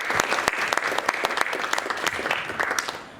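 An audience at a student union candidates' Q&A claps enthusiastically, with crisp individual hand claps standing out from a steady round of applause that tapers off at the end.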